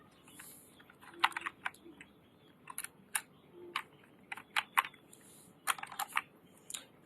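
Bangla text being typed with Bijoy software on a computer keyboard, irregular close key clicks in short bursts with brief pauses, quiet between strokes.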